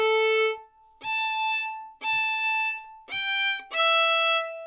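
Irish fiddle phrase played in time with a quick fourth-finger cut ornament, five bowed notes in a steady rhythm with bright ringing tone and short gaps between strokes; close and solo, no talking.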